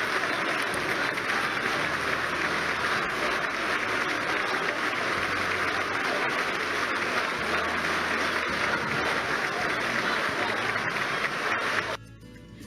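Sustained applause fills the Peruvian Congress chamber as the presidential sash is placed on Valentín Paniagua, a dense, even wash of clapping from a large crowd that holds steady for about twelve seconds before dropping away abruptly.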